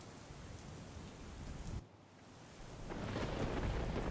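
Heavy rain pours down with wind in a Gujarat town, a dense steady hiss broken by a rumble of thunder that drops away before the downpour swells louder again.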